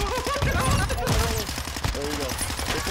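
Automatic gunfire in Call of Duty: Modern Warfare 2 multiplayer, dense rapid bursts crackling close and loud while players talk over the shooting.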